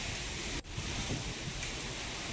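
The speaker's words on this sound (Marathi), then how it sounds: "विजांच्या कडकडाटासह तुफान असा पाऊस पडतोय" Heavy unseasonal downpour with strong wind and thunder in Hingoli, a dense continuous roar of rain and gusts with a brief dip partway, no talking.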